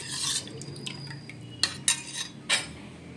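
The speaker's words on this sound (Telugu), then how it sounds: "ఇది ఉండలు కట్టకుండా కలుపుకోవాలి ఇట్లా" A spoon stirs custard powder mixed into liquid in a pot, giving close, fairly quiet sloshing and scraping followed by several sharp metallic clinks against the rim, with no voices.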